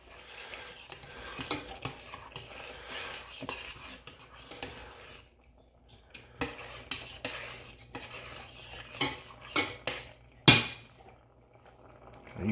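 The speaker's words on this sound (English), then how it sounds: "Tablespoon of ginger in, give it a stir." A spoon stirring coriander and ginger in a pot, quiet scraping and scattered metallic clinks and taps against the pot sides, with a sharper knock near the end and no talk.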